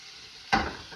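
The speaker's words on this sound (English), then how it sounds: "Frying some biscuits, baby." Biscuits frying in a pan of hot oil give off a sudden loud sizzle midway through, which then settles into a steadier crackle after a quiet start.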